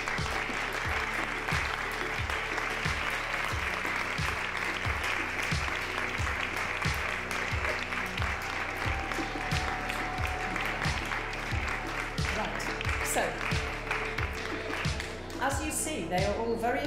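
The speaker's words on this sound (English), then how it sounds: "A round of applause, please." Audience applause at a European Mobility Week and SUMP awards ceremony, a steady crowd clapping over rhythmic background music, with brief voices near the end.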